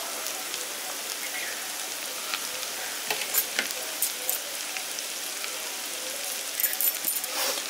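Chopped green chillies go into cabbage frying in a pan, giving a steady close sizzle with light crackle and a few stirring scrapes, and no talk.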